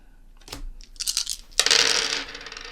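Dice roll onto a table during a board game, a burst of small hard clatters followed by a longer rattling tumble, close and clear with no talk.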